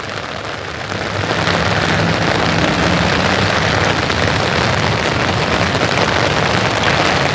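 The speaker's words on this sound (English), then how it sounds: "It's just so pretty out when it rains." Summer evening rain falls steadily outdoors among Japanese maples and shrubs, a dense, even hiss that swells up after the first second and then holds at a constant, close, fairly loud level with no voices.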